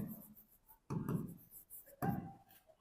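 Marker or chalk writing on a board during a narration grammar lesson, heard as two short scratchy bursts of strokes separated by quieter gaps, close and fairly faint with no talking over it.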